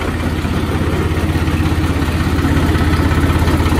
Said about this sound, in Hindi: तो दोस्तों स्टार्ट कर लिया गया है ट्रैक्टर को।